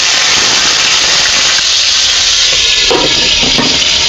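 Food sizzles and crackles in hot cooking oil with a steady, loud, dense hiss throughout and a few brief crackling bursts toward the end.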